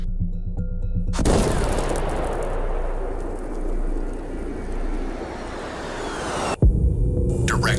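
A Maverick missile launches from an aircraft in a video game and slams into its target: a loud, sustained rumbling roar with crackling debris, then a sharp cut to a brief thud and quieter hum.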